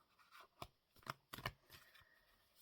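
Soft, close riffling of cards being shuffled in several quick flicks, quiet and crisp with no voices.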